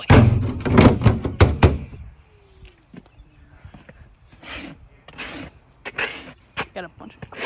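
An old TCL Android phone or iPod being smashed, with several sharp cracking thuds and bursts of breaking glass spread across the moment, some close and loud, others fainter, between quieter gaps.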